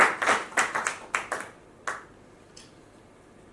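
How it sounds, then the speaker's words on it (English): At a magazine launch event, an audience applauds an architect with a quick run of sharp, sparse handclaps from a few people, fairly faint, thinning out to a couple of isolated claps. "Huge round of applause for Syed Salar."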